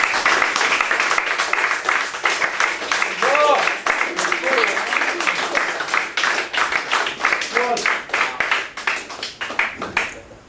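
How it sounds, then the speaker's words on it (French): A concert crowd claps enthusiastically and at length, a dense round of applause running nearly throughout while a voice speaks over it in places. "vous pouvez l'applaudir encore très fort, Lisa."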